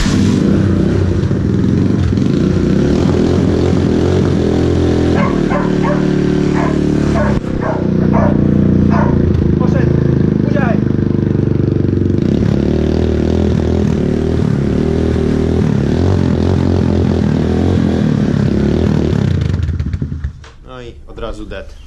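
A Diabolini 250 scooter engine that will not hold idle runs loudly and roughly with uneven revving, while a dog barks repeatedly nearby; the engine dies near the end.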